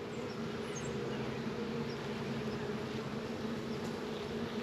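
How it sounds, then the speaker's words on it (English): Dense, continuous buzzing of many festooning honey bees at a hive, close and steady with a layered hum, no voices. "Nope, just festooning bees."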